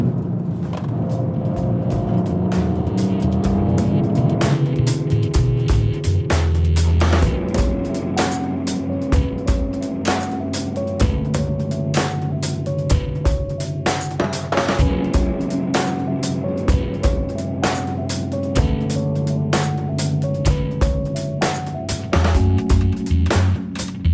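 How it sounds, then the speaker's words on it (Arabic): A BMW M2 Competition engine growls close and loud while being driven, its note rising and falling through repeated revs and gear changes with sharp bursts between them. "سيارة الـ BMW M2 Competition هلأ خلصنا سواقتها"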